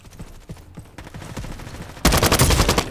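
Gunfire in a Roblox shooting game, a run of quick shots that swells into a loud, dense rapid volley near the end.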